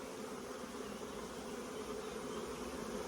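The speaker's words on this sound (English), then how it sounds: "You smoke here and all the bees run in the front" Honey bees running into the front entrance of a nuc hive after being smoked, a steady close insect hum and buzz with no break or talk.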